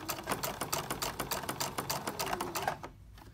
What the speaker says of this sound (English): just go ahead and sew through the background to get to the next piece